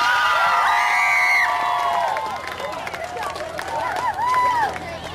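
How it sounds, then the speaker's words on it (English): Students at a school assembly cheer and clap for themselves, high excited whoops and shouts over a bed of applause, lively and close, easing slightly midway before rising again. "So give yourselves a round of applause."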